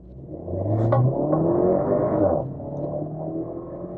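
A 2022 Porsche Macan in sport mode revs up sharply from inside the cabin, holds a loud rising engine note for about a second and a half, then drops back to a lower hum after a dual-clutch gear shift.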